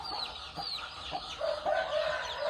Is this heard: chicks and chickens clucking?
yes